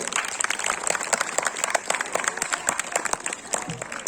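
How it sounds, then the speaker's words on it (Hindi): An audience applauds a student at a school Republic Day celebration, a sustained burst of many hands clapping with rapid crisp claps, steady and moderately loud, with a brief murmur of voices near the end. "बहुत जोरदार तालियां इस बच्ची के लिए।"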